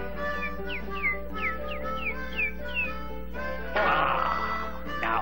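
In a Tom and Jerry cartoon, a kitten meows in a series of short, rising whistly cries, about half a dozen in quick succession, fairly close, followed by a louder squawking burst over a steady background tone.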